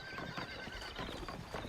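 Horse in the Red Dead Redemption video game whinnying close by while hooves clip-clop in a steady rhythm for a couple of seconds, with no talking.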